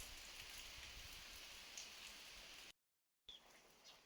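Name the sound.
heavy rain falling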